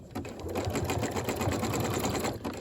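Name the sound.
sewing machine sewing a long zigzag stitch over skirt gathers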